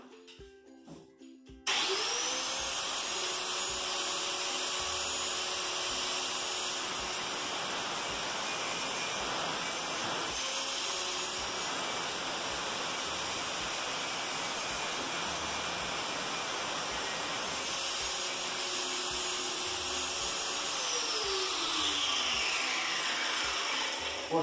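A power tool cuts through a window rod during a four-panel window installation, a loud steady whine running continuously for over twenty seconds after a brief start.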